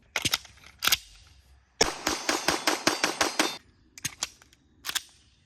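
Sharp pistol shots firing 115-grain MagTech rounds from a PSA Sabre Dagger at the range, a few scattered single shots and then a quick string of about eight evenly spaced reports, heard close with no talk.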